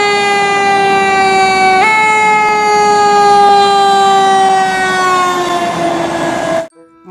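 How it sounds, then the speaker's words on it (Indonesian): A toy fire truck plays a loud electronic siren, a sustained tone that steps and slowly slides, heard up close and alone before it cuts off abruptly. "Mobil pemadam kebakaran."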